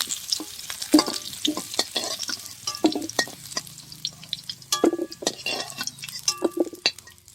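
Potatoes fry in a kadai with repeated spatula stirs, each scrape and clack standing out over a soft continuous sizzle, close by and uneven in rhythm.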